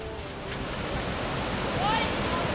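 Continuous hiss of the Paraiso cascade, a waterfall along a forest trail, steady and fairly distant with a faint breeze and a brief bird-like chirp partway through.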